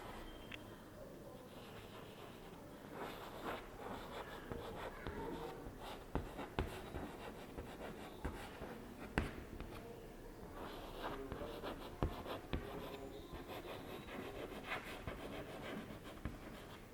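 Teacher writing slogans on a board in a secondary school classroom, a faint scratchy scraping with intermittent taps and strokes over a low room hum, continuing steadily throughout.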